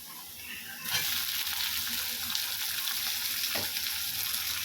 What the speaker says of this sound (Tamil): வெங்காயம் நல்லா வதங்கிச்சு இந்த ஸ்டேஜில் நம்ம தக்காளி சேர்த்துக்கலாம்